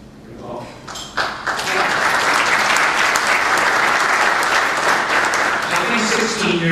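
Audience applause swells after a brief lead-in and holds as a steady, loud, dense wash of clapping from about a second onward, lasting several seconds before easing slightly near the end.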